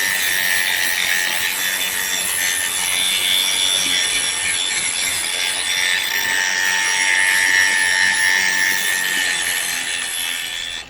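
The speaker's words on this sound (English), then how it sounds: "we're gonna use the grinder, and we're gonna grind it clean" An angle grinder grinding metal clean for a welding ground spot, a loud, steady, high-pitched abrasive whine held close and continuous for the whole stretch, with no talk.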